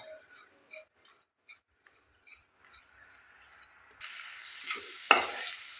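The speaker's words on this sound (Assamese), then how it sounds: "এতিয়া ল' টু মিডিয়ামত এই দুইখিনি ভাজি ল'ম।" Ingredients for Assamese laru fried and stirred in a pan over low-medium heat: a few faint ticks at first, then a sudden close sizzle with scraping stirs and one sharp clack near the end.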